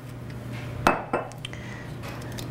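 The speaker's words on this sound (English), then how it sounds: "take a spoon to peel off the outside skin" A metal spoon scrapes the skin from a piece of fresh ginger, making two sharp, close clinks in quick succession and then a few faint scratches over a low steady background hum.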